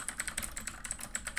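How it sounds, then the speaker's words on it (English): Quick, light keystrokes tap out on a computer keyboard in an irregular rhythm, close and fairly quiet, with no talking. "Are you really typing that in?"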